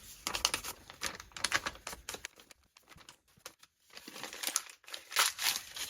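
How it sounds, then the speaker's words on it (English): Sheets of junk journal paper being crumpled up by hand, a dense run of close, crisp crinkling and rustling bursts with short pauses between them and no talk. "So I'm just going to crumple it up."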